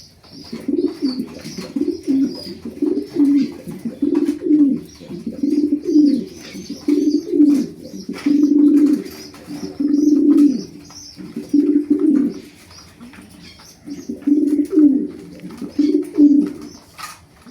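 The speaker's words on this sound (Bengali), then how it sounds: "নরের ডাকটা দেখেন গুম গুম করে শব্দ হয়" A male racing pigeon coos close by, giving a long run of deep, rhythmic throaty phrases separated by short pauses, with no voices over it.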